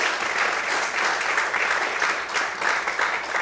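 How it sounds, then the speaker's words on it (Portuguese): A church congregation applauds during an evening service, a steady, full wash of many hands clapping at even loudness throughout. "Se você acredita nisso, aplaude e exalte a Ele nessa noite."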